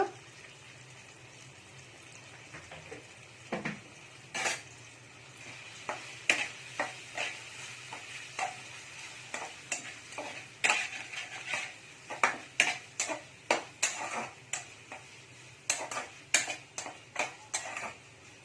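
Crushed pepper, garlic and cumin with turmeric powder being sautéed in a pan for tamarind rasam, a low background sizzle under irregular scraping and clinking stirring strokes that grow more frequent toward the end.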